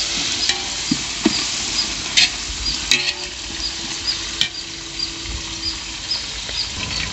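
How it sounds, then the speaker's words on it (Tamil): Mint and coriander fry in oil in a pan for a Jabbar Bhai style chicken biryani, with a steady sizzle under light scraping stir strokes and occasional soft clicks, close and moderately loud. "கொத்தமல்லி கொஞ்சம், புதினா ரெண்டும் சேர்த்து வச்சா கலந்து விட்டுருங்க."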